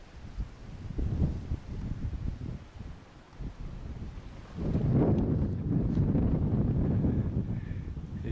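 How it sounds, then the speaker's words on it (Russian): Strong wind on a river in July buffets the microphone in a steady low roar, quieter at first and then gusting harder and louder for the second half. "Ветер сильный."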